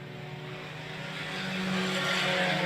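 Sport compact race cars roar past slower traffic during a heat race at Cotton Bowl Speedway in Texas, a steady broadband engine drone that swells slightly louder as the pack passes, with no voices.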